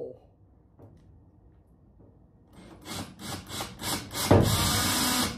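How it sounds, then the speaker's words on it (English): A power tool grinds into a Ford Transit van's bulkhead, growing louder with repeated bursts of cutting, then a sharp crack as something snaps, with a voice faintly underneath. "That was a fun snapping noise, but it worked."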